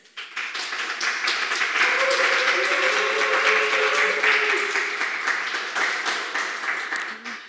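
Audience at a morning opening session of a German event claps for a speaker after a talk and conversation, a full, steady round of applause rising quickly and lasting about seven seconds, with a faint voice briefly underneath.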